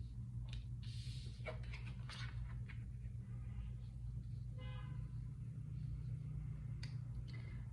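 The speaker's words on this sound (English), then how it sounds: "Those cars honking kind of verified the Chariot" Car horns toot several times outside, short faint honks over a low, steady traffic rumble, heard from a distance.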